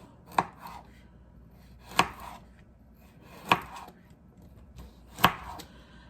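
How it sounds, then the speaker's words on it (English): A knife chops peeled carrots diagonally on a cutting board, ready for roasting. Four sharp, distinct chops land about one and a half seconds apart over quiet background, up close with no voices. "we're gonna cut our carrots diagonal"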